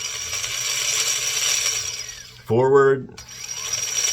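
RC submarine SubDriver from the 250 Series, its motors and servos running at low RPM: a steady mechanical whir and hum throughout, with a short spoken word breaking in near the middle.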